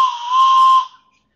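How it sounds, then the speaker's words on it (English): A toy steam train whistle from Puffing Billy gives one loud, close, breathy hoot that holds for under a second, then fades quickly with no talk. "it's got the most amazing steam train whistle"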